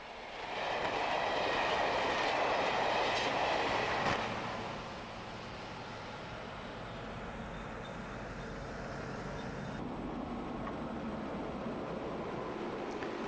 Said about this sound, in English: A Dublin-bound express hauled by one of the latest General Motors 201 class diesels speeds on its way